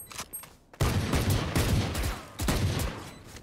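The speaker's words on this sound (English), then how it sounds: "I start shooting him." Gunfire in the video game Valorant: dense bursts of rapid shots hitting hard and loud, with a short gap before a second sustained volley, close and alone with no talk.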